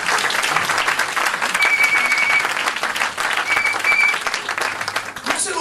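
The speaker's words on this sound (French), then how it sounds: "Est-ce qu'on peut acclamer le Seigneur?" A church congregation applauds and cheers to acclaim the Lord, a dense continuous clapping that swells and dips over several seconds, with voices mixed in.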